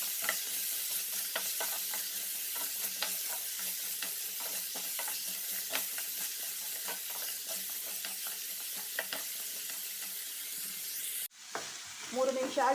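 Pumpkin fries in a pan for pumpkin pasta while being stirred. A continuous crackling sizzle is broken by frequent stirring taps, and then, near the end, it drops suddenly to a quieter, different sound.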